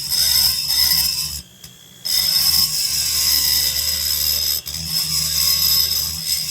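A rotary tool grinds steadily into the transfer port of a Homelite XL922 Super two-stroke chainsaw cylinder, a loud continuous high whine broken by two brief pauses.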